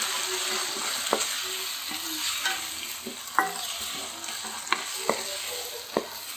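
Chopped tomatoes fry with sautéed ginger and garlic for an egg gravy, giving a steady close sizzle broken by sharp spoon scrapes and taps as the pan is stirred.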